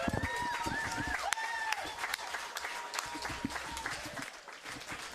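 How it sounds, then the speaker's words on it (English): An audience applauds a college football head coach at a live radio event held at a food bank, crowd clapping mixed with brief cheers and shouts beneath ongoing talk. "Ladies and gentlemen, how about a round of applause for our football coach, Eliah Drinkwitz."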